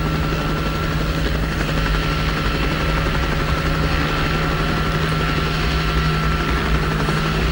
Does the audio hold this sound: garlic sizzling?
no